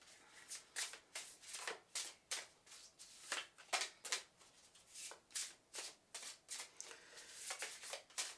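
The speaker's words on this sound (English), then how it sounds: "These cards are so hard to shuffle because they're gigantic." Large, oversized oracle cards being shuffled by hand in repeated bursts, each a crisp riffling flutter, about a dozen in quick irregular succession, close and quiet.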